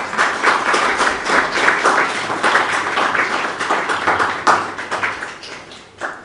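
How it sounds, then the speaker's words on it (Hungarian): Applause at a remembrance day event in honour of a visiting mayor: loud, continuous clapping from a crowd, close and even, keeping up for several seconds with a few sharper individual claps standing out. "és kérek neki egy nagy tapsot."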